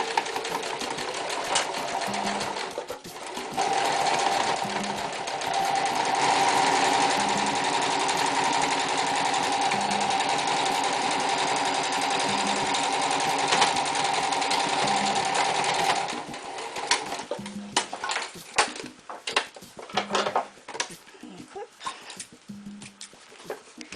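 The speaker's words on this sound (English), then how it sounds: "It's hardest at the beginning and the end because it's when it's most thick. The less you have to sew through, the better." A sewing machine stitches through thick recycled denim from old jeans, running in a steady, loud drone for about sixteen seconds before stopping, followed by rustling fabric and handling sounds.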